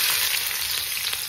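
Carrots, garlic and onions fry in hot oil in a pan with a loud, steady sizzle that continues unbroken throughout.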